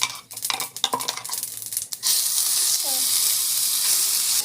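Puree sautéed in hot oil with mustard seeds, cumin, urad dal and chana dal, stirred with a utensil scraping the pan, then a loud steady sizzle after it goes in.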